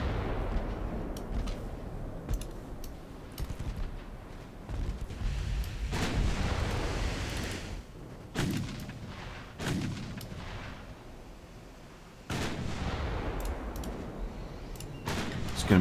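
In Ultimate Admiral Dreadnoughts, 15.2 inch naval guns fire as a series of heavy booms at irregular intervals, several loud blasts with rumbling tails over a low background.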